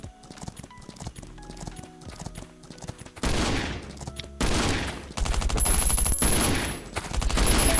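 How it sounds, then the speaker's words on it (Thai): Gunfire in the survival video game Last Island of Survival as a horse is shot: quiet hoof clip-clops and small clicks, then bursts of rapid, loud shots that grow denser toward the end. "อย่างนี้เราก็ยิงม้าทิ้งนี่ไง"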